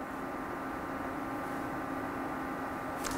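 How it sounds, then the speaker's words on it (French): Steady, low-level whirring hiss with a faint hum from the cooling fan of an Artlii Energon HD video projector, constant and unbroken throughout. "Ça, c'est le bruit du ventilo du vidéoprojecteur"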